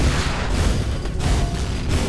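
Continuous loud booming game action from Quake as rockets are fired at ogres, dense low rumbling blasts running through the whole stretch with no talk.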